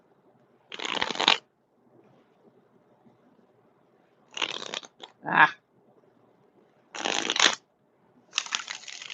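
Tarot cards are shuffled in four short riffling bursts separated by quiet pauses, with a brief murmur between them.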